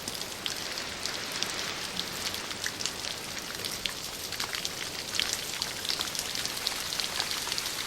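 Steady rain falls on a cool, moist mountaintop forest of wind-stunted evergreens draped in mosses and ferns, a dense even patter of drops on leaves with scattered closer taps, no voices.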